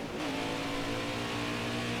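A stock-car race car engine in the NASCAR Heat 5 video game holds a loud, high, sustained drone that climbs slightly in pitch as it revs, with no voices over it.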